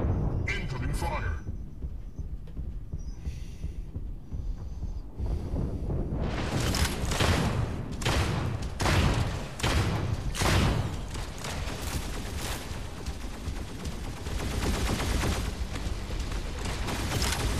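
Rapid bursts of gunfire and booming impacts from a mech battle in Mech Arena during a tournament match, dense and loud from about six seconds onward after a quieter start, with people talking over the action.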